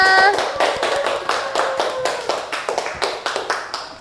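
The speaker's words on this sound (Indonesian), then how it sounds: "Give applause for Mbak Sania." A small group of students in a classroom clapping for a student presenter. The clapping is quick and fairly close for about four seconds, with a brief voice at the very start.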